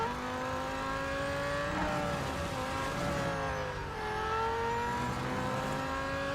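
McLaren Solus GT engine in the racing video game Real Racing 3, a high-pitched, steadily droning race engine held near the top of its revs, with brief dips and climbs as gears change, loud and continuous with no talk.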